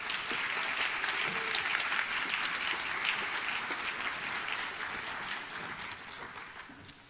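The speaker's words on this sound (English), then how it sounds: "Let's give a round of applause for Ms. Lisa Hibbitts" An audience at a school district Teacher of the Year ceremony applauds a DAAE Teacher of the Year, a full, sustained round of clapping from many hands that gradually tapers off over several seconds.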